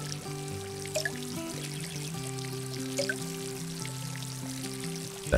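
Water pouring from a watering can over pumpkin plants in the Garden Simulator video game: a steady trickling stream, fairly quiet, over a sustained musical background with soft clicks.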